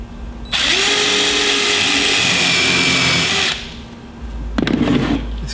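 A power drill fitted with a countersink bit bores into wood for a children's bookcase, a loud, steady whine held for about three seconds, then a short second burst of drilling.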